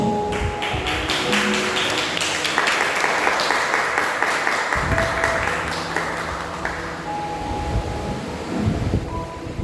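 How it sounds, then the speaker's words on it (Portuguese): A church congregation claps loudly during a worship service, a dense, steady wash of hands that carries on for the full ten seconds with no voices on top. "aplaude o nome do Senhor bem forte"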